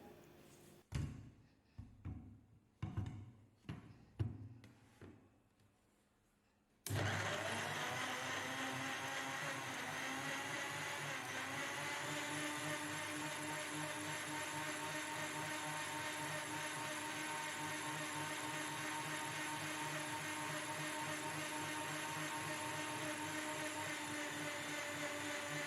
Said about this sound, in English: Cover and blend this really well.